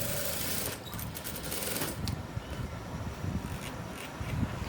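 A sewing machine runs steadily while stitching a blouse front with loose, dot-style stitches, a continuous close mechanical whirr with light clicking and no talk.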